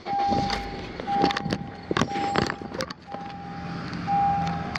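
A car engine starts and runs, cranking amid clicks and knocks before settling into a steady idle, with a repeating warning chime sounding on and off throughout, close and moderately loud.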